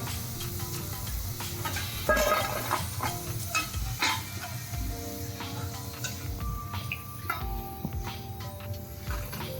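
Steady sizzling of potato finger chips frying in oil, with occasional scraping and stirring clatter throughout, fairly close and continuous.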